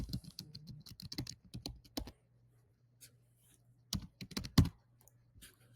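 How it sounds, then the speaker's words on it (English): Typing on a computer keyboard while entering a domain name on a registrar site: quick bursts of close, crisp key clicks, a pause, then another short run of keystrokes. "Here's where you'll type in the domain name that you'd like to have."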